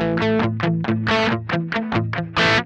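Electric guitar chords played through a Friedman BE Deluxe amp with distortion, a string of about nine strummed chords in a steady rhythm, loud and close, with a final chord ringing out the strongest.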